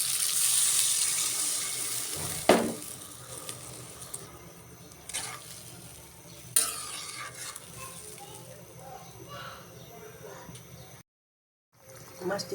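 Water pours into a hot pot of taro curry cooked for hilsa fish, a rushing hiss and splash over a faint background sizzle, ending in a brief silence.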